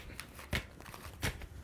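Tarot cards are shuffled by hand in two quick riffling bursts about half a second apart, close and fairly quiet, with soft handling rustle between them and no talk.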